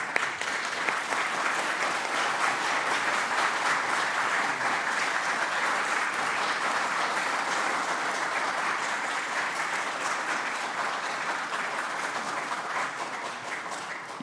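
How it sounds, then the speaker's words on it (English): A large audience applauds continuously, a dense, steady wash of clapping that holds at the same strength throughout. "Y'all quit clapping."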